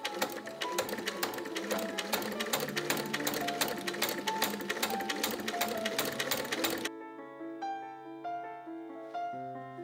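A sewing machine top stitches and bastes a travel dress corset, running in a fast, steady mechanical whir for about seven seconds before it stops and leaves a quiet, tonal background.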